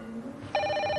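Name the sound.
telephone ringing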